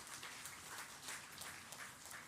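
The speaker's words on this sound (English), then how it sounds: "Give yourselves a good round of applause for that" Students at an academic year inauguration clap together in a brief, dense, fairly faint burst of applause that holds steady without pause.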